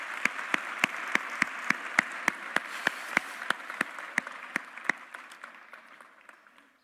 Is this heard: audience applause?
yes